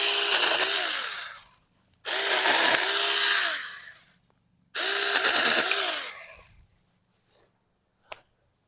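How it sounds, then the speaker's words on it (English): A Saker Mini electric chainsaw cuts small wood in three loud, close bursts of a few seconds each, its whining motor rising and falling with each cut, separated by short pauses and ending with a faint click. "The Saker Mini just seems to breeze right through it."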